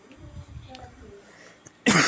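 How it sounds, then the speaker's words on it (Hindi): Quiet, low talk murmurs briefly before a single sharp, loud cough bursts out at the very end. "बोलने से खांसी तेज आने लग रहा है"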